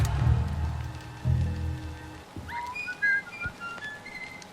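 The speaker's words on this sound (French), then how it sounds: "j'ai sifflé et ça siffle" A person whistles several short, high tones in a quick run, loud and close, following rumbling low noise with no talk.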